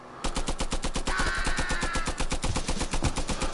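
Rapid, continuous machine gun fire in the hand-held VR shooter Guns n Stories, loud and close with evenly spaced rapid shots and a faint ringing tone partway through.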